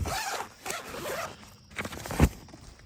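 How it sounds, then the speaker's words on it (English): A zipper on the carry bag of a Timber Ridge Grand Teton Outfitter tent is pulled open in several close, rasping strokes, the last one sharp and loud. "just want to open it, then it's this zipper."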